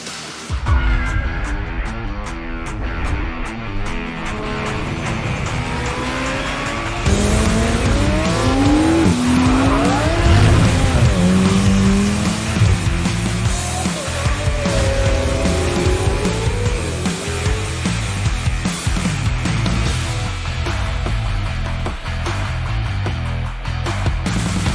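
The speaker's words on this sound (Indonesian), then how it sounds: "Inilah si super SUV Lamborghini Urus S." A Lamborghini Urus S super SUV drives hard, its engine rising and falling through gear changes, with tires squealing and skidding in sweeping bursts, loud and close throughout.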